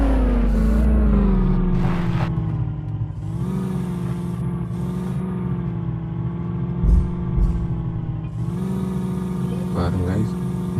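A Mahindra Thar's engine holds a steady mid-pitched drone as the vehicle strains to climb onto a container, with slight revving and a few bumps partway through.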